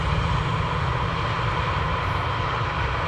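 A business jet taxis at London Luton Airport, its engines giving a steady, loud, continuous whine and rumble that holds evenly with no break.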